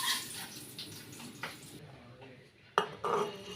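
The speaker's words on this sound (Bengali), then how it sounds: "আমি এখন মাছটা উল্টে দিই।" A frying fish is flipped in a pan, with clattering utensil and pan knocks, soft sizzling in between, and a sharp metallic clank near the end.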